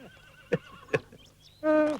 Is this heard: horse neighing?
yes